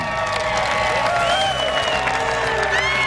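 A capacity crowd fills the arena at the 2005 NCAA Division I indoor track championships, with a steady wash of cheering and applause and scattered voices and whistles that hold loud and unbroken throughout.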